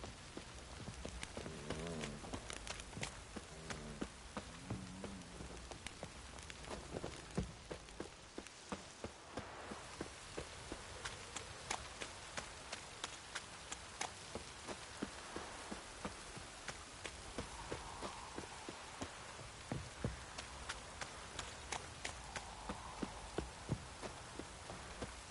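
Heavy downpour in The Witcher 3, a steady hiss of rain on surfaces with a rhythmic clip-clop of a horse's hooves running through it, moderately loud and continuous without talk.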